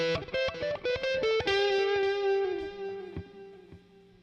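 An electric guitar runs through a Roland Katana Mark II amp on a crunch setting with delay and reverb, playing a quick run of plucked notes that settles into a sustained tone and rings out with a trailing echo.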